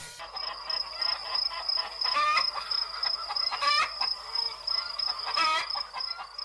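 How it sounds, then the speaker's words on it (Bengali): Cartoon chickens clucking in a poultry yard, a busy overlapping run of clucks and squawks close and fairly loud, with a steady high whistle-like tone running underneath throughout. "ওই তো কত মুরগি।"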